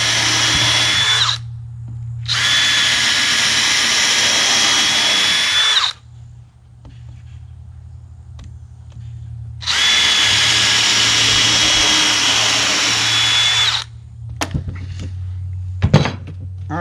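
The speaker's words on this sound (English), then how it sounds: "put the other 2 screws on each side" A power drill drives screws into the frame of an above-ground grow box in two long whirring runs, each several seconds, followed by quiet handling thunks and knocks.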